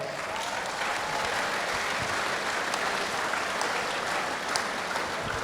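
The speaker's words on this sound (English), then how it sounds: "give all the competitors another round of applause" A crowd claps steadily for several seconds, a dense, even wash of applause with no voices over it.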